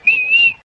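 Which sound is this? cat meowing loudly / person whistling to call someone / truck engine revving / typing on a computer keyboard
person whistling to call someone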